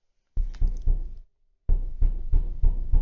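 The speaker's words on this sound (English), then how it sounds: "If you hear pounding in the background," Construction work on a house exterior produces heavy pounding: a burst of about four thuds, a pause, then about five more in a steady rhythm, with no talking.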